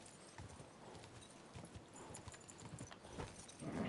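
Horse hooves clip-clopping in Kingdom Come: Deliverance 2, a steady rhythmic trot of hoof strikes at moderate distance, continuing throughout with no talk.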